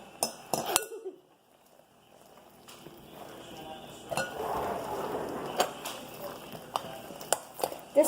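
A metal spoon clinks and scrapes against a container while slime is mixed, sharp scattered taps over a soft squelchy background, with brief talking near the start.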